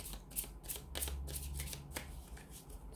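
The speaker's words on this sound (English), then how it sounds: "I'm just going to give these angel answers a shuffle and just see what messages are coming in." A deck of oracle cards is shuffled in a quick, steady run of riffling flutters and soft slaps, close and fairly quiet, continuous for a few seconds with no talk.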